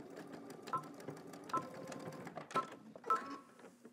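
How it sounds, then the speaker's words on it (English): A home sewing machine stitches diagonally across the corner of a shirt, with quiet clicking and short bursts of mechanical chatter at irregular intervals, fairly faint and with no talk. "I'm just going to take it from that corner and then stitch diagonally"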